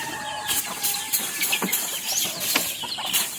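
Backyard chickens and month-old chicks clucking and chirping nearby in a steady flurry of short calls, loud and close, with no talking.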